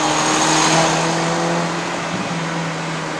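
A 2015 Honda City GM6 1.5-litre with a converted five-speed manual gearbox revs under throttle on a mountain climb, a steady loud engine drone heard from inside the cabin with a slight dip in pitch near the end.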